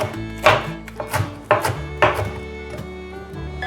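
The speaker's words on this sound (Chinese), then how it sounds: "把高丽菜的叶子切细。" Knife finely chopping cabbage leaves on a cutting board: a series of crisp, close chops in an uneven rhythm, about five distinct strikes with softer cuts between, heard alone without talk.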